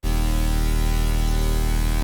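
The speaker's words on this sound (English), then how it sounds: "so it's just a sine bass and then distortion" A loud, sustained sine sub bass with distortion drones steadily for about two seconds, buzzy and thick with gritty harmonics, then cuts off abruptly.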